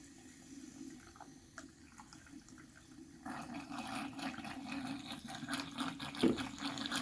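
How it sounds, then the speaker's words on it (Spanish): A car battery's cells bubbling and fizzing after a baking soda and water mixture is poured in. A quiet pour comes first, then a steadier watery gurgling with small pops, fairly close and faint. "Vean cómo burbujea y sale todo lo sucio que es el sulfato o sarro que tienen pegadas las placas y celdas"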